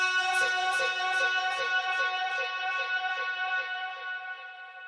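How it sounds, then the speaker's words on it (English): A lead vocal in a sparse song mix carries an underlying delay effect, with repeating echoed phrases trailing off steadily at moderate level and no speech over it. "there's this other vocal effect that's happening underneath here that sounds like this."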